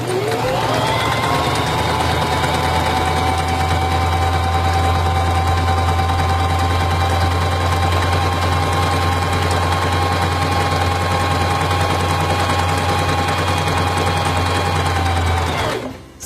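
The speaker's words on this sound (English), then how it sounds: "Now to sew the feather stitch, place the fabric under the presser foot, lower the presser foot," Sewing machine running steadily to stitch a decorative feather stitch on fabric, a loud continuous mechanical whir with fast rhythmic needle chatter lasting about fifteen seconds before stopping, close up and alone.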